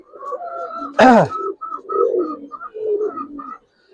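A Giribaz pigeon coos close by in a run of short, repeated throaty notes with a rhythmic bounce, briefly broken by a sharp rustle or wing flap, and the bird is alone with no voices over it.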